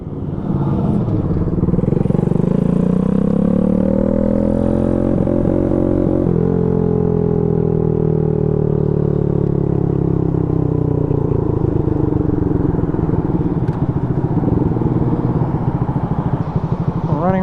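A Boom Vader 125, a Honda Grom clone motorcycle, rides along streets with its small single-cylinder engine droning steadily and loudly close by, pitch rising and falling as it accelerates and shifts, with wind rumble throughout.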